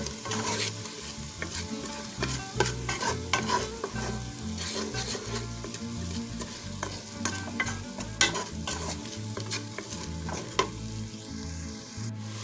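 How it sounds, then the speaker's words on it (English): Spanish yellow rice with saffron sazon being stirred in a hot pan, a steady sizzle and frying crackle with scraping stir strokes, close and continuous, no talking. "And also my saffron sazon. And go ahead and give that a good mix."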